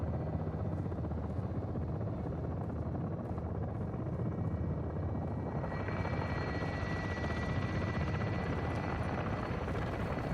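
Helicopter in a video game, a steady loud rotor and engine roar that fills the whole stretch without letup, with a faint engine whine rising in the second half and no talk over it.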